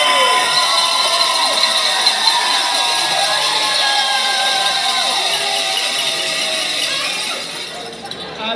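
Office staff cheer and clap for themselves in a room, a bright, sustained crowd of whoops and shouts that holds steady for several seconds before tapering off.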